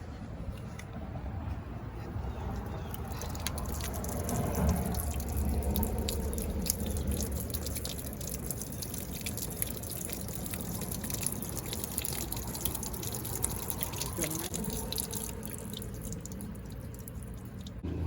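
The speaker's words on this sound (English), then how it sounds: "I'm going to pour the water into the right passenger drain tube, and we're going to see if the water comes out down there by the passenger wheel well" Water draining out of the right passenger sunroof drain tube of a 2005 Dodge Durango 5.7L Hemi near the wheel well, a steady trickle and dripping at moderate level, continuing for many seconds.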